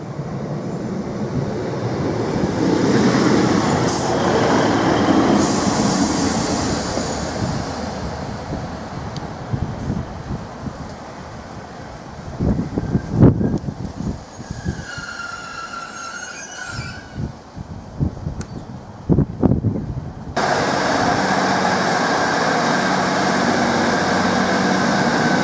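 A Class 153 diesel railcar passes and pulls away, a sustained rumble with wheel squeal and wind buffeting on the microphone, clattering over the rails before settling into a steady engine drone.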